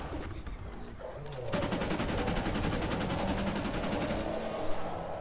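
A gun fires rapid bursts in Fortnite: Save the World. After a short quieter lead-in, a dense, steady rattle of shots runs loud and unbroken to the end.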